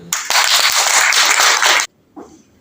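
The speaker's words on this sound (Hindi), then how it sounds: "हम सब के लिए जोरदार ताली।" An audience at a motivational talk on life insurance bursts into loud, dense clapping for under two seconds, then it stops sharply and a brief voice follows.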